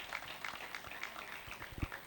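A church audience in Pakistan claps together during a healing prayer service, the applause steady but faint and distant.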